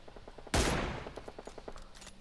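A single sharp gunshot in the video game PUBG Mobile cracks out loud and close, then fades into a ringing tail, over quieter rhythmic game sounds.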